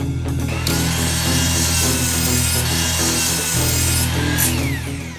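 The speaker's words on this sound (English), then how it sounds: "We're going to use pressure-treated wood, we're going to make 4 cuts in it" A saw cuts through pressure-treated wood in a loud, continuous grinding rasp that holds steady for several seconds with a faint underlying hum, close and with no voices.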